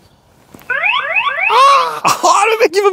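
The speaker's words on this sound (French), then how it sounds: "Voilà, il y a une petite sonnerie, regardez." Anti-theft alarm on an ENGWE MAPFOUR N1 PRO carbon electric bike sounds when the bike is touched, a loud electronic siren of rising sweeps and warbling tones lasting a couple of seconds, close by.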